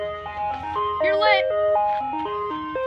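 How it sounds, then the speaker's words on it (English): An ice cream truck plays its chiming, stepped jingle loud and close, with a voice talking briefly over the melody. "this ice cream truck just gave us free ice cream."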